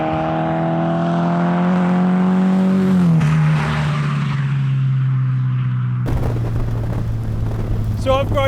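Engine of a Mazda MX-5 Miata-based RX-5 sports car accelerating, a rising harmonic whine that climbs, drops at a gear change, then holds steady under road noise with a brief burst of other sound near the end.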